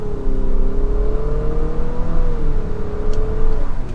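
A 2023 Infiniti QX50 Sport AWD with a CVT accelerates, giving a steady, rising engine drone that holds at one pitch rather than shifting through gears, heard loud from inside the cabin.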